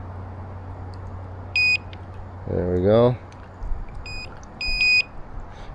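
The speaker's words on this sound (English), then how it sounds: "Okay, bait alarm is on." A carp fishing bait alarm beeps in short electronic bursts, one single tone followed later by a pair of beeps, clear and close, with someone speaking briefly between them over faint background hum.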